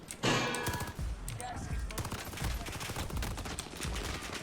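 Gunfire in the Warzone video game, rapid bursts of shots with thumping impacts across the whole stretch, fairly close and loud.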